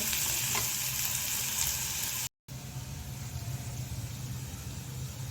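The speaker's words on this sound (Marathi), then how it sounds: "टोमॅटो व्यवस्थित परतून घ्यायचा आहे याच्यामध्ये नरम होईपर्यंत।" Tomatoes sauté in a pan for vangyache bharit, an eggplant dish. A continuous soft sizzle and fry runs throughout, broken by one very short gap midway, with no talking.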